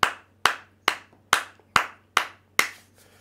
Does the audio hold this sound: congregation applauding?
yes